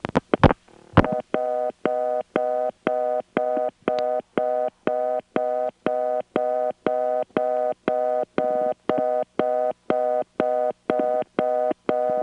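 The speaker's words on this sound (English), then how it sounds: "I dialed 68. We went into another office. Then I dialed the 5." Step-by-step telephone dialing on a 1977 Bell #355 exchange line from Batesburg, South Carolina, over a long cable pair: a few sharp clicks, then a steady run of evenly spaced tonal pulses repeating about twice a second, fairly loud, with no talking.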